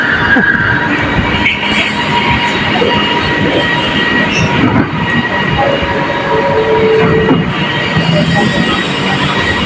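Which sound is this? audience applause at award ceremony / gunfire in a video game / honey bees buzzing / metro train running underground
metro train running underground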